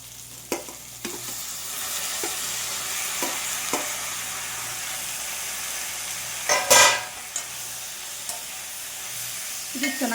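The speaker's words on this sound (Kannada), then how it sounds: "ಇದು ಚೆನ್ನಾಗಿ ಫ್ರೈ ಆಗಲಿ." Tomatoes fry in a pan with a steady sizzle and hiss, stirred now and then, with a louder scrape and clatter partway through; nobody speaks.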